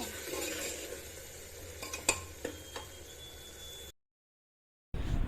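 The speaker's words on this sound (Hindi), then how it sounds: "बर्तन मैंने धो के रखे हुए हैं, तो क्यों ना इनको स्टैंड पे लगा लिया जाए" Freshly washed steel utensils clink and clatter as they are set onto a dish stand in a home kitchen, a few sharp metallic knocks and scrapes at moderate distance, followed by a short gap of silence and a brief burst of noise.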